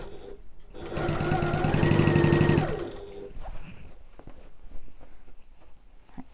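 A sewing machine stitches through backpack layers in one steady, rapid run of about two seconds, close and loud, then stops and gives way to quiet handling of fabric.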